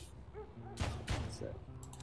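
Two sharp gunshots ring out in the John Wick Hex video game, set against a low game soundtrack with a brief voice between the shots.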